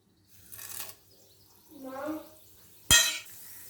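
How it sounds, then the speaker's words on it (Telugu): Spices dropped into hot oil in a pan for aloo fry tempering give brief crackles and clinks, with a sharp sizzling burst near the end; quiet kitchen otherwise, no talk. "ఆయిల్ హీట్ అయింది, పోపు దినుసులు వేస్తున్నాం."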